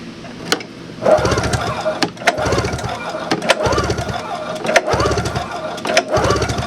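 A barn-find 1995 Yamaha Vmax 600 snowmobile engine sputters in uneven, repeated bursts after pull starting, close and fairly loud, chugging roughly rather than settling into a smooth idle.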